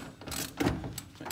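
Short clicking and ratcheting of a wrench tightening the mounting hardware on a truck toolbox, a few quick close mechanical ticks with a slightly heavier clunk in the middle.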